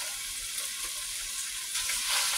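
Close, steady sizzling of meat searing in a hot pan during weekly meal prep, a continuous crackling hiss that swells slightly louder near the end.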